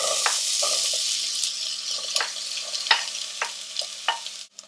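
Chopped onion and pepper sizzling in hot olive oil in a pan, a steady frying hiss broken by scattered clicks and scrapes of stirring, close and moderately loud.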